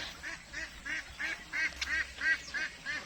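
Ducks quacking in a steady series of calls, roughly one every third of a second, close and fairly loud, with several birds overlapping. These are about two-month-old itik ducklings being raised on a farm.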